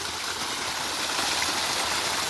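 Water rushes steadily along a channel to irrigate mango trees, a loud, continuous close-up gush and burble with no voices.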